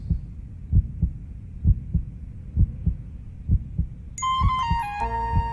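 Heartbeat sound effect from a Hindi-dubbed South Indian action movie: a steady series of deep, thumping double beats, loud and close, with a bright ringing chime tone rising in over the last second.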